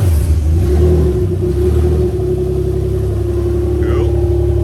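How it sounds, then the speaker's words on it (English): A Toyota 1G-FE engine running on an ECUMaster Black modular harness revs steadily and loudly, a sustained mid-pitched drone holding close and continuous throughout. "I'm going to rev the engine as well, show you that both of them are working"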